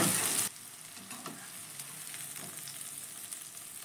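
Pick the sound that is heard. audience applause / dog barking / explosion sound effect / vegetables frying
vegetables frying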